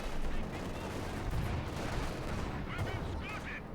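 Katyusha rocket barrage in a WWII strategy game, a dense, continuous rumble of distant explosions and battle noise with a few faint higher chirps, loud and sustained throughout.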